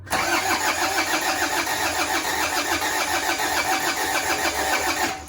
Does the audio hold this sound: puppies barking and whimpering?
no